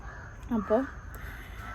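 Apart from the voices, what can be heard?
crows cawing outside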